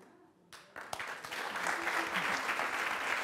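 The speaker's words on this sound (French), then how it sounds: "Merci, on vous applaudit déjà pour ça." An audience breaks into applause after a moment of quiet, the clapping swelling quickly into a dense, steady round that continues to the end.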